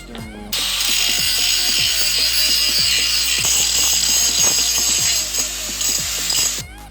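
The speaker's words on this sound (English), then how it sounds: "Now I'm tapping the threads on the bottom of this scrap seat" A tap cuts threads into the underside of a metal scrap seat for a go-kart build, steady loud grinding and ratcheting with rapid irregular clicks, close up and continuous for several seconds without talk.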